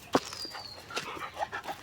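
A dog on a farm gives a few short, close yips and whimpering barks spaced across a couple of seconds, over a quiet outdoor background.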